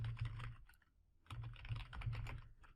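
Quick bursts of keystrokes on a computer keyboard, a clicky run of typing with a brief pause in the middle before a second, denser flurry, close and fairly quiet with no voices.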